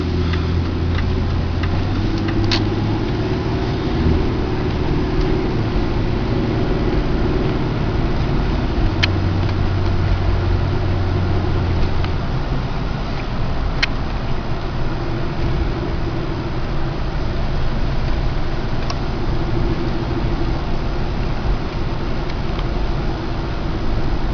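A 1995 Ford Explorer driving, heard from inside as a loud, steady cabin drone of engine and road noise, with faint ticking now and then.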